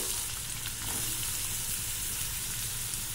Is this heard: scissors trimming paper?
no